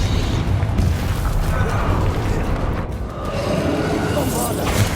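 Confringo spell explosions in Hogwarts Legacy, a sustained roaring blast with booming, crackling bursts that dip briefly and then swell again, loud and continuous, while a voice talks over the game.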